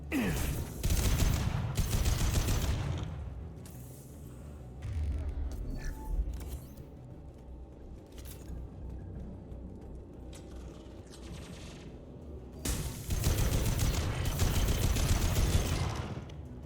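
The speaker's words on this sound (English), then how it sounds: "Tempest submachine gun." A Tempest submachine gun in Mass Effect 2 rips off loud, sustained automatic bursts, one long stretch at the start, another brief one midway and a final long burst near the end, separated by quieter mechanical game ambience.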